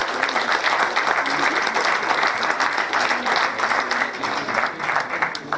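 A crowd at a tribute concert applauds strongly and steadily for several seconds, a dense wash of clapping with no voices over it.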